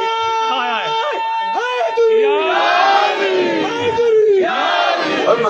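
A large crowd at a religious gathering shouts slogans in unison, loud, sustained rising waves of many voices.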